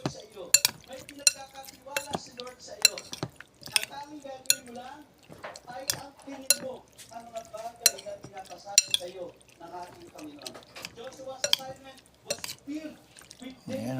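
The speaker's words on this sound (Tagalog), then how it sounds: "Haluin ulit natin." Kinilaw na galunggong, a raw fish salad, stirred in a bowl with a utensil: repeated sharp clinks and scrapes against the bowl, interspersed with wet squelches and a voice talking between strokes.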